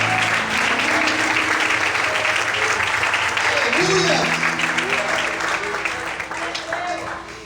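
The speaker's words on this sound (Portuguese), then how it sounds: "Você pode aplaudir o Senhor?" Congregation applauding in church during an evening sermon, a broad continuous wash of clapping that holds steady then gradually thins out toward the end, with a voice and music underneath.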